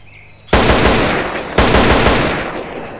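Two loud bursts of rapid automatic fire from a modded weapon in GTA San Andreas, each starting abruptly and trailing into a dense rattling echo, with no talk over them.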